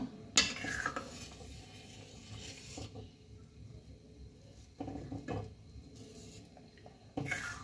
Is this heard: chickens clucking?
no